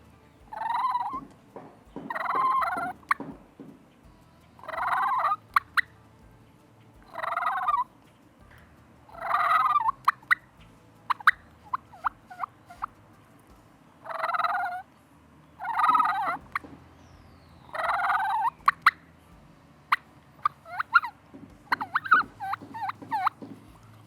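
A hunter's mouth call mimics a hen turkey's rolling purrs and soft calls, repeated in short bursts with pauses between, close and clear against a quiet background.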